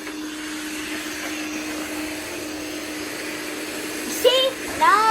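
A robot vacuum cleaner, one of an iRobot Roomba Plus 507 combo and a LeFant M210, runs with a steady motor hum throughout, close by. Brief rising electronic tones sound near the end.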